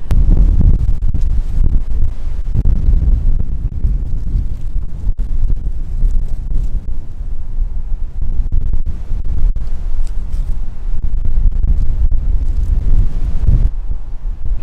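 Strong wind buffets the microphone outdoors after a rainy night on a hog hunt, a loud, continuous low rumble with gusty surges and no talking.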